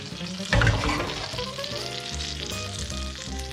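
Trout fry in a hot pan with a loud, steady sizzle and crackle that swells briefly early on, heard close with no one speaking.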